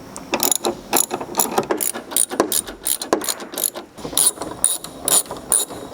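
Ratchet wrench clicking as it backs out 10 mm headlight mounting bolts on a car during an LED headlight install, with rapid bursts of close, sharp ratcheting repeated through the whole stretch and no talk.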